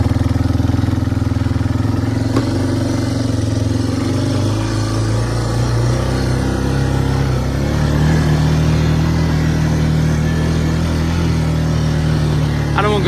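Yamaha BearTracker ATV with brakes that are locking up, engine running steadily and rising slightly in first gear as it is ridden slowly; a constant, fairly loud mid-pitched drone with no talk.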